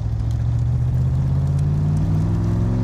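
A 1965 Shelby Cobra Backdraft's engine drones steadily while driving, a loud, close low rumble holding an even pitch with no voices.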